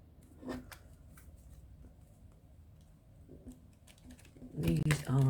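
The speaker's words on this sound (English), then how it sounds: "these are not the easiest cards to shuffle" Tarot cards being shuffled by hand, a stiff deck, with soft riffling and shuffling noises scattered through and a louder burst of card handling near the end, close and fairly quiet.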